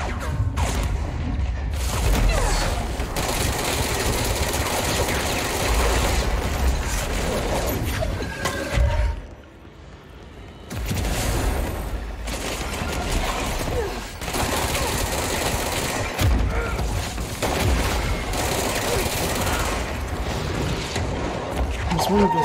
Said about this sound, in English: I've got to shoot it too